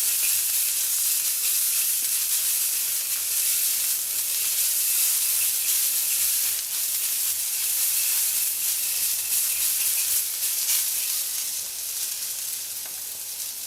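Onions sizzling and frying in oil in a wok for beef with broccoli, a steady loud hiss and crackle that runs unbroken throughout and thins slightly toward the end.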